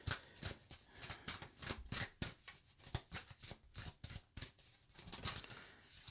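Tarot cards being shuffled by hand, a continuous run of crisp riffling slaps and flutters in quick irregular bursts, close and fairly loud with no talk.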